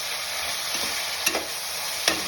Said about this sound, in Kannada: ಹೀಗೆ ಬಾಯ್ಲ್ ಆಗ್ತಾಯಿರಲಿ